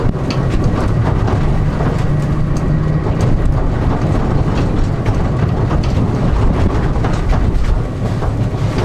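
A converted Renault 4L drives along with a steady, rumbling road and rolling noise, no gear changes, heard continuously from inside or close by without talk.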